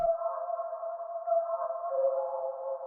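A texture pluck synth sample from the Intention kit rings out alone as a steady, quiet, hollow tone with a soft harmonic above it, sustained evenly throughout.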